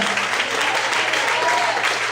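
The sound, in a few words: church congregation applause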